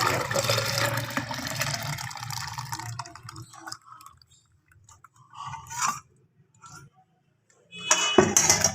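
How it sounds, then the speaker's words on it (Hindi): Carrot juice mixed with kinnow and beetroot is poured into a jug, giving a broad splashing stream for about three seconds, then quieter trickles and clinks, and another brief loud splash at the end. "ये जूस जो है जग में डालते हैं"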